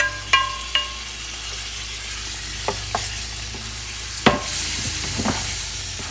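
Gumbo with sausage and shrimp being stirred in a pot, a soft continuous sizzle broken by several sharp clinks and scrapes of the spoon against the pot at irregular intervals.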